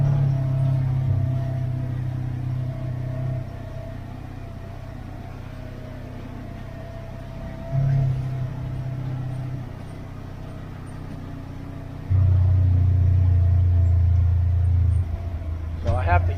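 Polaris General XP4 side-by-side engine holding back under compression braking on a foggy mountain ATV club trail, a steady low drone with shifts in pitch and loudness.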